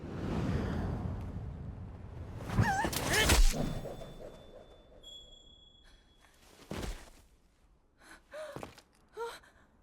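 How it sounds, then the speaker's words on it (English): Deep, heavy breathing in a Breath of the Wild cutscene, several loud gasping inhales and exhales near the listener, followed by quieter, shorter breaths at irregular intervals. "just deep breathing atop a soft piano melody as she gently glances up at Link"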